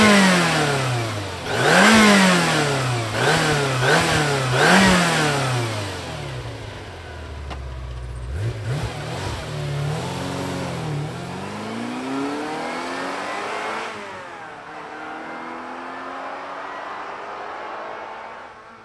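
A bright red 1992 Ferrari 348 engine cranks, catches and is revved hard several times in rising and falling sweeps, then settles into a steady idle, loud and close with no talking.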